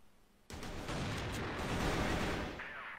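Gunfire in a competitive online shooter match, a sudden loud burst of shots that starts abruptly and rolls on as a dense, sustained volley with heavy booming low end.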